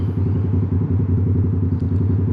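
A Yamaha R7 motorcycle engine throbs steadily while riding through St Kilda and Albert Park, a close, continuous low pulsing drone with no talk over it.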